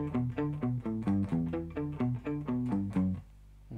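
A distorted electric guitar plays the second variation of a riff, with tight palm-muted notes in a driving, even rhythm before the final chord cuts off into quiet, heard close and alone.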